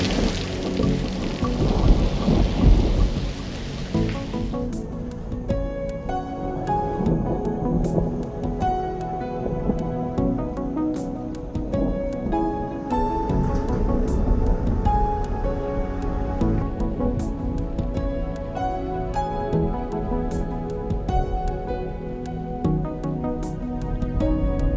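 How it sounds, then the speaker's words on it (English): Heavy tropical rain pours down in Bali, with a loud thunder rumble early on over steady hiss and patter of rain on surfaces, continuing without letup. "It's safe to say that we got completely rained out."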